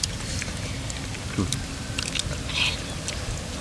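Crunchy cooked field apple snails, large and sweet, bitten and chewed close to the mic at an outdoor evening meal, with crisp crunches and soft chewing over steady background noise and nearby voices.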